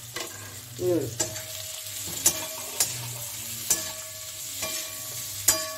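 Potatoes fry in a pan with salt and green chillies. A continuous soft sizzle runs underneath regular sharp clicks and scrapes from stirring, with no voices.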